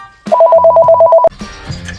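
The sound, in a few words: phone ringing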